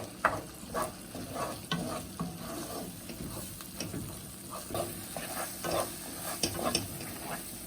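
A spoon stirs mutton brain masala frying in a pan, giving a continuous sizzle broken by repeated scraping strokes and light taps at an even, unhurried pace.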